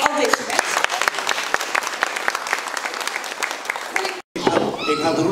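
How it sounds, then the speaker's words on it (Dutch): Applause at a festive neighbourhood opening with coffee and language activities, dense clapping from a gathered crowd that runs loud and steady before a brief break, with voices and cheering afterward. "Dan heb ik nog één keer applaus voor al deze"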